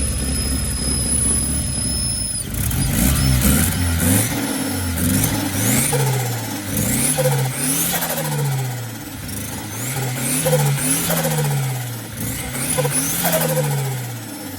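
A car engine revs repeatedly through the exhaust, rising and falling in rhythmic pulls, loud and close, with no talking.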